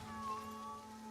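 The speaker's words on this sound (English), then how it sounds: "Oh, we got kitty cats." A cat in the video game Assassin's Creed Shadows gives a brief, fairly quiet meow over a steady hum of in-game ambience.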